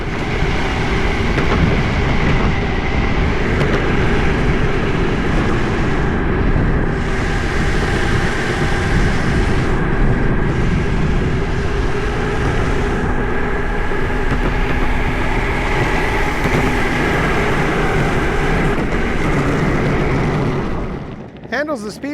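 A MAXFIND MAX6 belt-drive electric skateboard with cloud wheels rolling over rough ground, a loud constant rumbling roar with wind buffeting, fading briefly at the very end.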